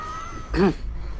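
A cartoon cat in a video game meows once when tapped on the head, a short rising-falling mew standing out alone over faint steady background noise.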